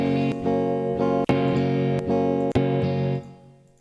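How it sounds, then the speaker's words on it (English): Guitar played through the Native Instruments Guitar Rig plugin, a run of rhythmic strummed chords with sharp attacks, wide and processed, ending as the last chord decays, with no talking. "So Guitar Rig sounds like this."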